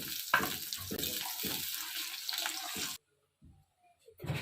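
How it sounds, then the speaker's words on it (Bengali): Green chili and garlic frying in a pan, loud wet sizzling in bursts for about three seconds, then near silence with faint clinks. "এবার এর মধ্যে রসুনটা দিয়ে রসুনটাকে ভালোভাবে ভেজে নিতে হবে।"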